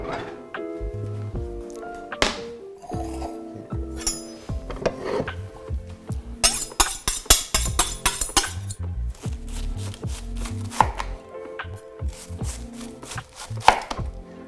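A knife chops cabbage on a board in a home kitchen, with dense, irregular thunks and clacks and a few clinks of dishes and utensils close by.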